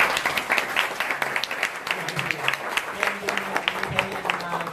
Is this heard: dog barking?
no